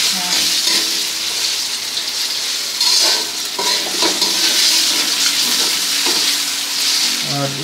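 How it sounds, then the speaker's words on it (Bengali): A little water poured into a frying pan of spiced masala with ginger, tomato and cumin paste, setting off a steady, loud sizzle and hiss that surges in bursts, with stirring clatter and no talk. "এখানে একটু দিয়ে দিচ্ছি জল, একটু হালকা জল দিয়ে দেওয়া হচ্ছে"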